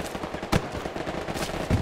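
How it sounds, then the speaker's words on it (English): Bursts of SMG gunfire ring out in the World War II shooter game Hell Let Loose. Two sharp volleys sound at mid-range over a busy battlefield background. "It's an SMG"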